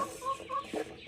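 Chickens cluck in a few short, mid-pitched bursts, close by and fairly quiet, with no voices around them.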